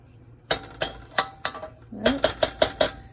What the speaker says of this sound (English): Scraping the sides a little bit because the powdery bits kind of stick to the side